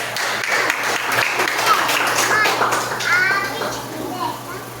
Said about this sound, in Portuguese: Receba a serva do Senhor com palmas para Jesus.